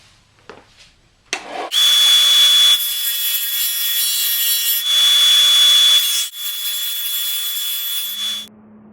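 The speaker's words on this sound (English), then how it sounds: "take it to the sanding disc here, and I'm going to make it flat" A power sanding disc grinds against a small wooden piece in loud, steady bursts with a high whine, flattening a taper, pausing briefly between passes.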